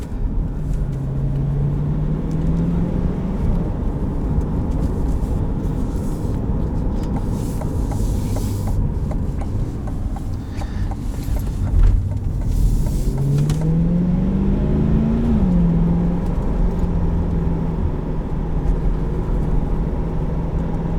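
A 2020 Chevrolet C8 Corvette Z51 with a dual-clutch automatic rises in engine pitch, eases off, then climbs again in a second loud, sustained rev heard from inside the car, with no talk.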